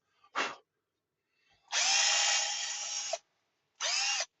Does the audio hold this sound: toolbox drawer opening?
no